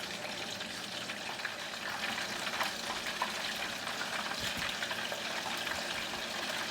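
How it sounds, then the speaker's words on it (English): Garlic cooking in melted butter in a pan gives a steady, soft sizzle with faint crackles, continuous and fairly quiet with no talking. "I'm allowing the garlic to cook in with the butter to infuse for about a minute"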